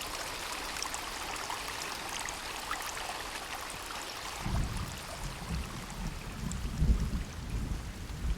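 Steady rain hisses through a forest area in the video game Sons of the Forest, with a low rumble swelling midway through the dense, continuous patter.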